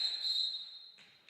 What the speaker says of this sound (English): Diving dig by Lino, but play whistle down.